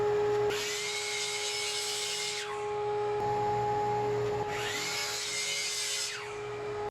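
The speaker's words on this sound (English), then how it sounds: "I'll head over to the miter saw and chop that up now" Two loud miter saw cuts through Baltic birch plywood, each a rising whine that holds for about two seconds and then dies away, with the motor hum steady in between and no talking.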